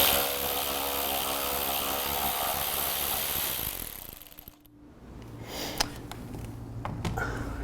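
A power tool unfastens a panel bolt on a BMW R1300GS Adventure during a Touratech upper crash bar fitting, a loud close whirring buzz that winds down, then a short gap and a few sharp clicks.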